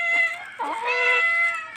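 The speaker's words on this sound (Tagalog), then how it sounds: "Andun pusa." A hungry stray cat meows loudly and close by, a drawn-out wavering cry that rises and falls over roughly two seconds, with no other sounds.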